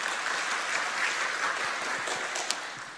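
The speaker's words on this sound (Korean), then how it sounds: "우리 박수로 축복하겠습니다." A church congregation at a Wednesday worship service claps in blessing, a steady dense round of applause from many hands that fades slightly toward the end.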